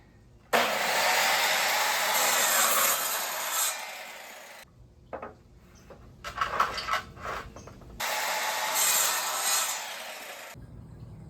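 A small, inexpensive miter saw cuts through baseboard, two loud sustained whines of the blade spinning and biting the wood, separated by a quieter stretch of clattering and handling noises.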